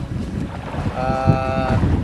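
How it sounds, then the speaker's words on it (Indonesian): Strong wind buffets and roars across the open sea around a rocking fishing boat, with sloshing waves and a brief high tonal whine in the middle. "Ini memang anginnya kenceng banget"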